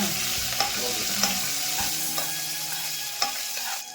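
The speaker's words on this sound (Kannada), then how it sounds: "ಸಾಸಿವೆ ಜೀರಿಗೆ ಸಿಡಿಬೇಕು" Mustard seeds and cumin crackle in hot oil alongside frying dried red chillies: a dense close sizzle punctuated by sharp pops and occasional spoon scrapes, with no voices.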